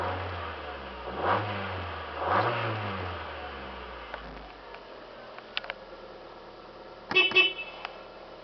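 A 2002 Mazda Protege5 engine starts and revs up and down twice before settling into a steady idle, followed by a few sharp clicks and a short loud burst near the end.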